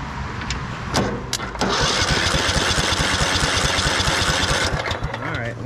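A 2004 Craftsman LT1000 lawn tractor cranks over after a couple of brief starter bursts, then catches and runs with a loud, steady engine drone close by before easing off near the end.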